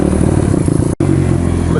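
A Honda XR200R dirt bike engine held at full throttle, a loud, close, buzzing drone with a brief dropout midway, no voices over it.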